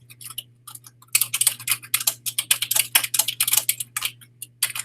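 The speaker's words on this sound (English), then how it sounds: "I know the typing is annoying." Rapid clicking of keys on a computer keyboard, steady and close, typed in quick irregular bursts over a constant low electrical hum, with no voices.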